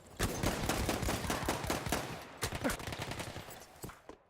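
Rapid bursts of gunfire from an 8v8 clan match in the shooter game Frontline, including pistol shots, crackle densely and loudly for most of the stretch, thinning into scattered shots near the end.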